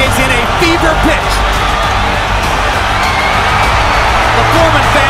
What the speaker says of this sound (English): The crowd is in a fever pitch.